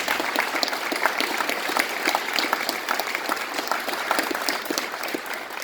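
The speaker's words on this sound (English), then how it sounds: "if we could give him a round of applause" An audience at a speaking event gives a dense, sustained round of applause, with many hands clapping together at steady loudness throughout and no voices heard.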